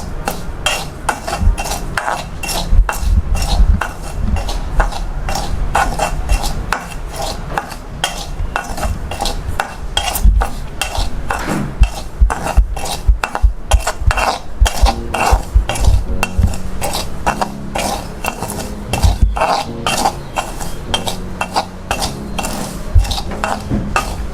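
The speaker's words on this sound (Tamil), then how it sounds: "கோல்டன் ப்ரௌன் ஆகிற வரைக்கும் நல்லா வறுக்கணும்" Rava for kesari is dry-roasted in a pan until golden brown, with a steady run of metal spoon scraping and clattering against the pan, close and continuous, with a faint sizzle underneath.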